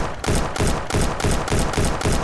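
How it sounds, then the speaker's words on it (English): A gun firing in the Ancient Warfare 3 video game during a beach assault, a steady rhythm of about ten evenly spaced loud shots in quick succession, with no voices over them. "Dude, this is a really good gun from distance"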